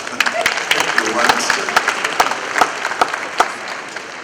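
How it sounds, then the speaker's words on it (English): Audience applause at a national identity day ceremony in Nigeria, scattered sharp claps over a crowd murmur, moderately loud, with talking underneath. "clap for her if you want"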